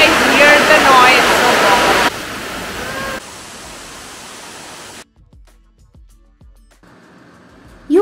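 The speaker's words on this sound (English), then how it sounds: "the Transky River forms a unique underground waterfall of more than 9 meters high" An underground waterfall over nine meters high on the Trnava River inside Stopica Cave sends out a steady, dense roar of falling water. The roar drops in level at abrupt steps and then cuts to near silence, with faint sounds after.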